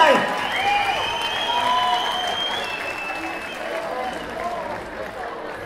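An audience claps to welcome a midnight surprise performance at a Czech technical secondary school graduation ball in Tachov, with dense, sustained applause and crowd noise filling a large hall, gradually easing.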